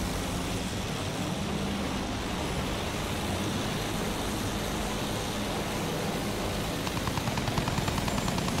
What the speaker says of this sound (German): Feindliches Flugzeug gesichtet!